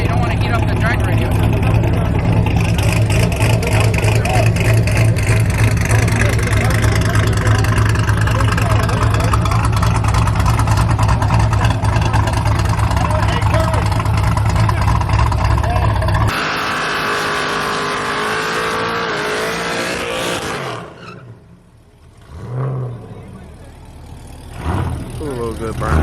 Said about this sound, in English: A little good burnout.